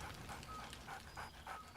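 Scratch, a dog in the video game Baldur's Gate, pants softly in quick rhythmic breaths while being petted, faint and alone with no talk.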